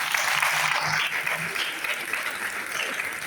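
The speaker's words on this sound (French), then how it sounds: "on peut les applaudir" An audience at a closing and awards ceremony claps for the event's sponsors, a steady wash of applause at moderate level that softens slightly but continues throughout.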